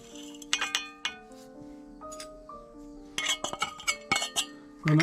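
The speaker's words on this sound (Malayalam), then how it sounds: "നന്നായിട്ട് ഒന്ന് ഇളക്കി കൊടുക്കുക" Bright metallic clinks and scrapes of a spoon stirring powdered camphor into oil in a container, scattered irregular taps that ring briefly, close and fairly clear, with no talking.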